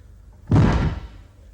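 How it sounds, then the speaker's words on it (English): A door is slammed shut once, a single loud, close thud that quickly fades. "Just don't slam the door."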